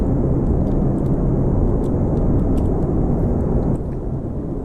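Steady, loud rumbling roar of a throttled aircraft engine in Kerbal Space Program, droning continuously and easing slightly in level toward the end.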